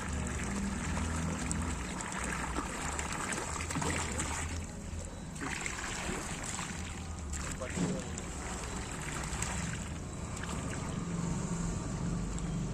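Water rushes steadily through a household water supply connection, a continuous broadband flow that stays loud and unbroken throughout, with a faint low hum underneath.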